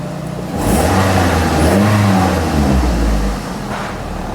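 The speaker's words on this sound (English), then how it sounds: "So as you can hear, the engine is running." A Toyota Corolla engine with a catalyst efficiency fault runs steadily up close, its low rumble swelling briefly as it revs before settling back toward idle.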